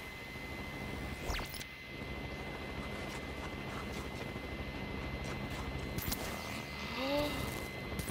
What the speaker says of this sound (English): A lot of helicopters, though.